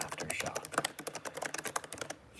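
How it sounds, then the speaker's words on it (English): Fast, forceful typing on a computer keyboard: a dense, uneven stream of hard, close keystrokes hammered out without pause, ending abruptly. "She's even typing angry."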